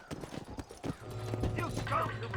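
A horse in Red Dead Redemption clip-clops in quick uneven hoofbeats and then gives an agitated whinny, with someone talking over the sounds.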